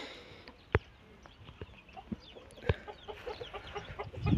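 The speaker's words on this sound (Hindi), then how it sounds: "ये मुर्गी मेरे से डर रही है," Aseel chickens on a large farm in Pakistan, with sharp clucks and scattered calls at varying distances, a few louder near pecks or wing flaps, and a busier cluster of bird sounds toward the end.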